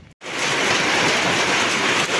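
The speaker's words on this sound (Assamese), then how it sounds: "তো ফাইনেলি বৰষুণ আহিয়ে গেল" Heavy rain in a village starts suddenly after a moment of quiet, then becomes a loud, dense, unbroken hiss.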